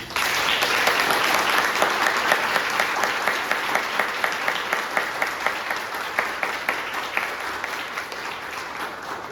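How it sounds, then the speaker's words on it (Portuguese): An audience at a spiritualist lecture gives sustained, even applause, many hands clapping in a dense steady patter that slowly fades toward the end. "Palmas para Jesus!"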